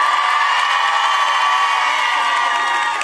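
A large outdoor festival crowd cheers and whoops continuously at a summer concert tour stop at Lac des Sapins, a loud, dense wash of voices with some applause mixed in, steady throughout.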